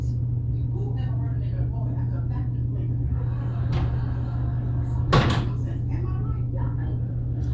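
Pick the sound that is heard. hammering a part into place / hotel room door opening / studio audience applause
hotel room door opening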